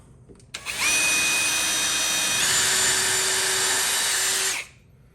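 A power drill bores pilot holes into wood for a workbench, whirring loud and steady for about four seconds, its pitch stepping up partway through before it spins down.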